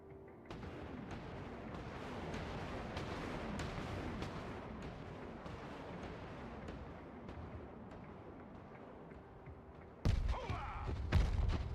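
Artillery fire in the Broken Arrow video game rumbles as repeated booms and thuds over a steady battlefield din, with a louder, heavier blast near the end.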